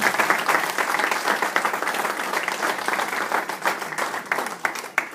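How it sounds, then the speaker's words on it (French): A press-conference audience applauding the digital coaches, a dense, sustained burst of many hands clapping at close range, staying full and even before thinning slightly at the end. "on peut les applaudir quand même"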